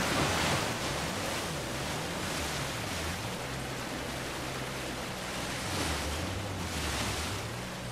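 A boat rushes through river water in Uncharted 4, a steady broad roar of churning spray and wind with a low engine hum swelling and dipping underneath, loud and close without voices.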